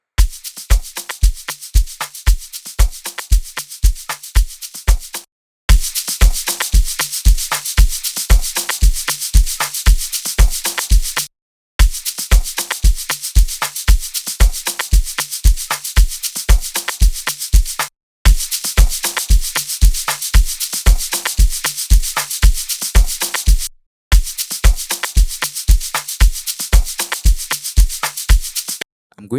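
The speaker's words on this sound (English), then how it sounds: "This is what the dry drums sound like." Dry, uncompressed drums play a steady beat of regular low kick thumps under a constant bright, hissy cymbal wash, broken by a few short silent gaps.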